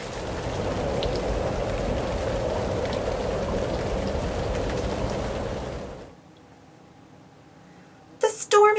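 Steady rain patters and hisses for several seconds, then cuts to near silence before a few sharp, bright sounds at the end.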